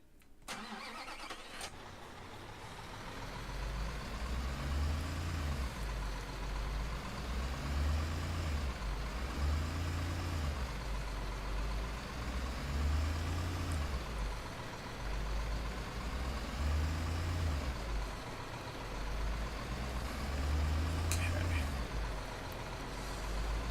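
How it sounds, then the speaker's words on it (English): Flatbed truck with crane in Construction Simulator 2015, its engine starting and then running on in a steady, moderately loud diesel rumble that swells and eases in a slow, regular pattern. "Flatbed truck with crane."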